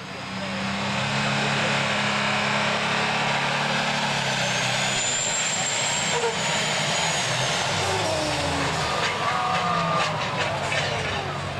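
A Wolverine tractor with four superchargers starting up at a 1998 NTPA pulling event in Shiawassee, Michigan, a loud, steady engine drone and roar filling the whole stretch, with crowd or announcer voices mixed in.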